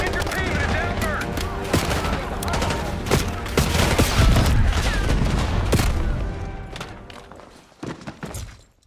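Heavy gunfire rattles in Call of Duty: Black Ops 6, loud bursts of automatic fire and sharp single shots crack over a desert helicopter crash site, with voices shouting among the shooting.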